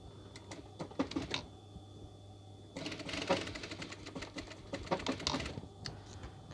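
A sewing machine stitching a seam on a piped, zipped scatter cushion cover, running in rapid mechanical bursts, stopping briefly, then starting again, close and moderately quiet, no talking.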